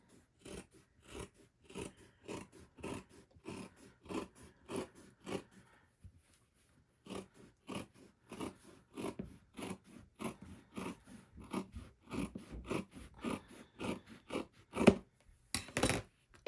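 Scissors snip through four stacked layers of satin fabric in a quick, uneven series of close crisp cuts with short pauses, no talk.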